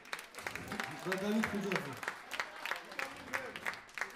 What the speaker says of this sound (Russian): так что вы не скупитесь на аплодисменты